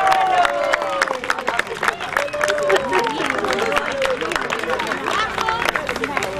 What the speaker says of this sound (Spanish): Le damos un fuerte aplauso a los actores.